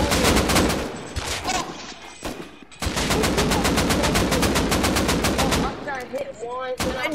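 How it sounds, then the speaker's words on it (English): Rapid automatic gunfire in Rust Console Edition, with long loud bursts of closely spaced shots interrupted by a brief pause and followed by a few shorter volleys, all close and dominant. "No way that all those shots missed, bro."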